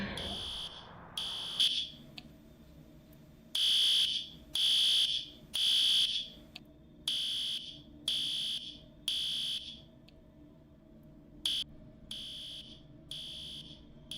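A video-game fire alarm sounds in loud, repeated electronic beeping pulses, some longer and some clipped short, ringing in an uneven rhythm over a low steady hum.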